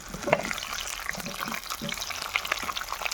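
Onions dropped into a pan of browned garlic, sizzling softly with small crackles and pops, quiet and close, with a faint voice now and then.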